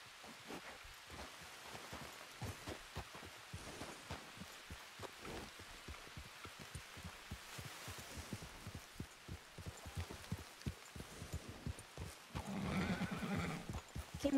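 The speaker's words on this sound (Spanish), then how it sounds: "Es que mi caballo sale un poco acelerado a veces." A horse in the RedM game clip-clops along at a steady, quick pace, with a neigh near the end, all fairly faint under a soft rain-like background.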